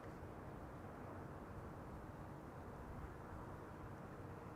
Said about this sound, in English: E2 Embraer 195 KLM flight 1918 arriving from Zurich